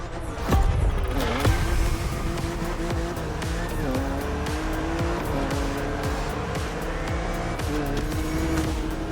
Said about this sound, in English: It's wonderful to see this car taking over the roads of Maui. Z4.